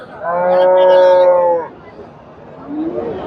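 A pregnant Friesian cow gives one long, loud, sustained moo lasting over a second at a cattle market in Bogura, followed by quieter background voices.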